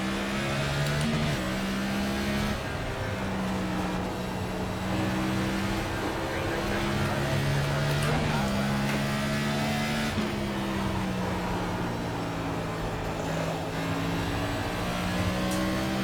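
NASCAR Cup car engine in the iRacing sim at Bristol, a steady loud droning roar with shifting pitch as the car laps, continuous throughout with no pauses.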